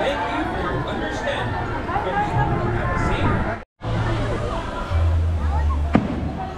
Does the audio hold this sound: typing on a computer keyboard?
no